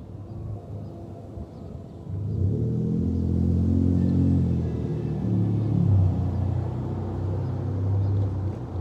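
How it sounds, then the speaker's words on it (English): Cars passing on a road beside a yard, a low rumbling engine and tire roar that swells after a couple of seconds and holds loud and close for several seconds before easing slightly. "We had to wait for those cars to come."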